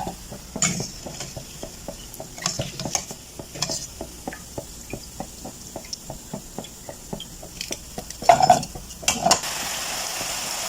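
Potato nests fry in hot oil, a steady sizzle broken by a regular series of sharp metallic clicks and scrapes from stirring utensils against the pan, with a few louder clatters near the end.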